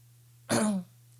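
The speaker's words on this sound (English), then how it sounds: "Sorry, I've been waiting the whole time to cough." A man clears his throat once in a short, harsh burst with a rough cough quality, close to the mic in a quiet podcast room with a steady low hum behind it.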